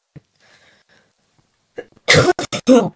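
A person coughs in a quick cluster of three or four sharp, loud, close bursts after a near-silent stretch with a few faint murmurs.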